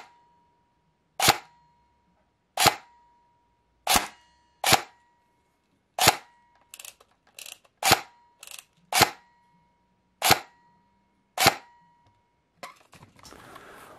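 Airsoft M4 rifle with a Matrix Sportsline gearbox firing 0.2 gram BBs through a chronograph: ten sharp, loud single shots spaced about a second apart, each a crisp snap, followed by faint handling rustle.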